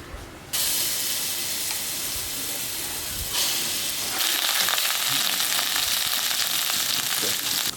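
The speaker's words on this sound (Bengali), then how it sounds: "এবার আদা রসুন বাটা পেস্টটা দিয়ে দেবো।" Ginger garlic paste hits hot oil with cloves and cardamom, bursting into a loud, steady, close sizzle that swells further partway through and continues as an unbroken frying hiss.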